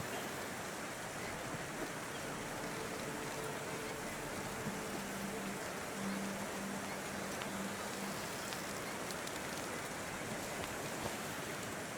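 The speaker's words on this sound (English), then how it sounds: "And now it starts to rain." Steady rain falls in the video game The Thaumaturge as a continuous, even hiss of drops on surfaces, with a faint tonal hum partway through and no voices.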